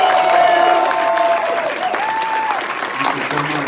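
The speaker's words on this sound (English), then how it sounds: "let's give a round of applause to Linnea Quigley one more time." Horror film festival audience at Salem Horror Fest breaks into loud, dense applause, with some cheering in the crowd after an actress's Q&A.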